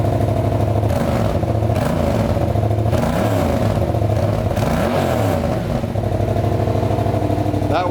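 A Yamaha MT-07 motorcycle engine with its stock exhaust idles with a loud, throaty rumble, revving up and falling back several times in a rising and dropping pattern, close by.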